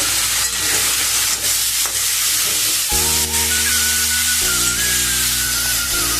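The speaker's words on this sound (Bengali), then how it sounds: "আমি এখন এর মধ্যে চিংড়ি মাছটা দিয়ে দেবো।" Prawns dropped into hot oil over lightly fried salted onions burst into a loud, steady sizzle partway through, frying hard and continuously to the end with a faint background hiss before it.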